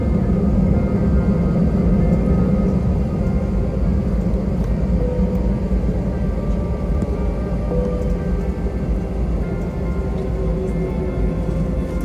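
Steady, loud airliner cabin roar during a flight from McAllen, Texas to Las Vegas, Nevada: a dense, unbroken low drone with a faint hum on top, continuous throughout with no speech.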